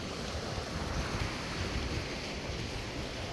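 Sea waves breaking on a shore by a fishing area with boats: a constant broadband wash of surf mixed with wind buffeting the microphone, loud and unbroken for a few seconds.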